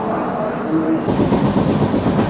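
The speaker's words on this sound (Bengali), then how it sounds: "আর এই হচ্ছে আমাদের ট্রেন এসে দাঁড়ালো" The Azad Hind Express train pulls into platform 5, rumbling loudly nearby, a low steady roar with rhythmic clatter from the wheels as it rolls along.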